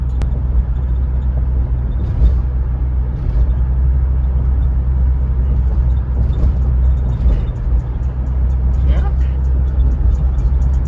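A Chevy Blazer project truck rolls steadily down a residential block on cruise control, its engine and road noise forming a constant close drone with faint passing clicks and rattles.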